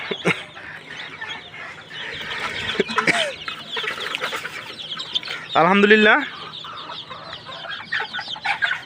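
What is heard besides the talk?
desi chickens and chicks clucking on a farm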